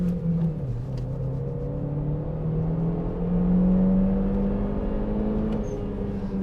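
Chevrolet Cruze 1.4 turbo, 140 hp, pulling hard uphill with traction control off: a steady engine drone climbing in pitch through the gears, with a brief shift dip and rising whir, heard from inside the car.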